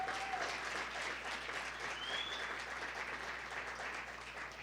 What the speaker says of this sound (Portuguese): Nesse dia, pode aplaudir o Senhor Jesus.